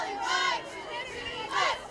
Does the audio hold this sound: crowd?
yes